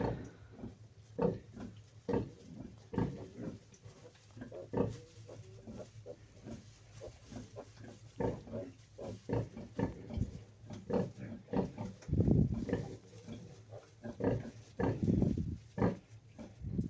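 Sow grunting after farrowing, a series of low soft grunts and snorts spread irregularly through the stretch, fairly close and quiet, with no talking.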